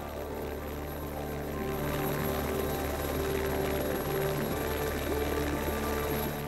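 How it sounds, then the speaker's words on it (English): Helicopter clattering among the sheer rock walls of the Großglockner massif in the Alps, a continuous rotor thrum and engine whine that swells slightly and holds steady, echoing off the mountain faces. "the alien clatter of the helicopter crashes around the sheer walls of the Großglockner Massif"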